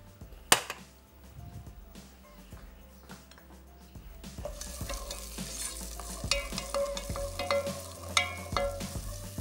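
Corn kernels and boiled peas stir-fried in garlic in a pan: a sharp clatter, then steady sizzling and frying that grows louder, with scraping and stirring sounds and a few utensil knocks, no voices.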